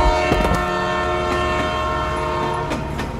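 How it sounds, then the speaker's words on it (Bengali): Train sound effect for a Bengali horror audio drama: a loud, sustained rumble of an approaching train with a steady horn tone and sharp rail clacks, no voices. "ট্রেনটা প্রায় কাছে এসে গেছে।"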